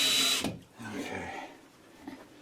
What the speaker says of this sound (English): Slow the drill down a little bit.